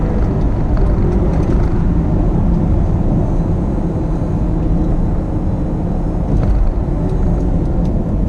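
Steady, loud engine drone with road and wind rumble throughout, a 2019 BMW X7 pulling hard in third gear through a right-hand bend with no change in pace.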